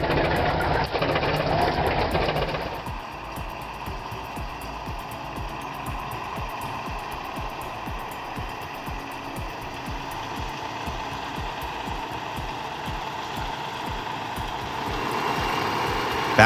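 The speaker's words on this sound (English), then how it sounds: "Three tractors pulling against one steam engine at the Northwest Ohio Antique Machinery Show in Findlay," An antique steam engine chugs in a steady, rapid rhythm while three tractors pull against it at an antique machinery show, the mechanical beat continuing for the whole stretch after a louder burst of rumbling at the start.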